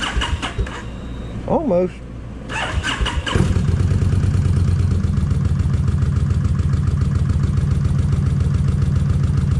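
A Kawasaki Vulcan 1600 motorcycle with a previously wet spark plug cranks briefly, fires up and settles into a steady, loud, rumbling idle; a person speaks briefly before it catches.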